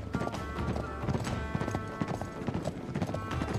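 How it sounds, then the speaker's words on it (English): Horses' hooves clip-clop in Uncharted 3: Drake's Deception, a dense, rapid galloping rhythm of several riders with brief background voices. "riding on the horses"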